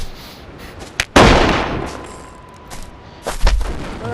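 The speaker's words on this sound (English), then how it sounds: "Oh, that's a gunshot!" Gunfire in a video game while a player chases someone toward a helicopter: a sharp loud blast with a long decaying tail, then a second burst a couple of seconds later, without talk.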